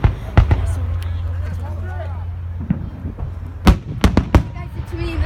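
Fireworks at a Fourth of July show, sharp cracks and booms going off in bursts, some close and loud, with crowd voices and chatter throughout.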